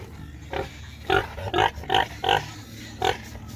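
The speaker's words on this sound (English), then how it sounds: "This spot sow over here is the mama to those pigs that I showed you down there a while ago." A spotted sow on a farm grunts in a series of short, close oinks, about six or seven bursts spaced irregularly over a few seconds, with no talking.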